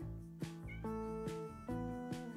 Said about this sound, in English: And if you guys hear a cat meowing, it's my kitty.